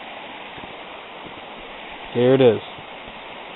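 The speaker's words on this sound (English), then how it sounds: "This is the river. It's flowing very smoothly, a little bit rough here" A river near Lake Superior, flowing smoothly but slightly rough, gives a steady broadband rush of water throughout, with a brief spoken phrase over it partway through.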